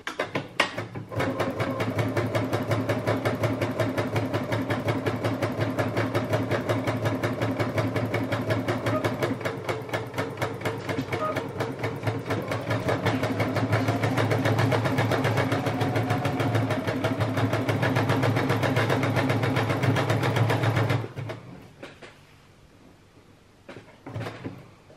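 A programmed sewing machine stitches three small buttonholes, running steadily and loudly with a fast mechanical whir for about twenty seconds before stopping, followed by a few faint clicks and handling sounds.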